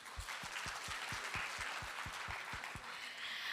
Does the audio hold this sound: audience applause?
yes